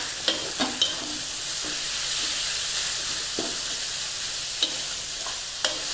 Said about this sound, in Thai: ใส่หมูสับลงไปค่ะ